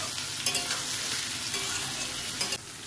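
Sausages fry in a pan while a spatula stirs them, giving a dense continuous sizzle with intermittent scraping and clinks, close and loud, easing slightly near the end.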